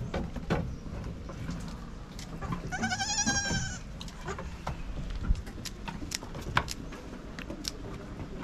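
A Jamunapari goat and her kid give one clear, wavering bleat at close range, surrounded by scattered clicks and shuffling in a quiet pen.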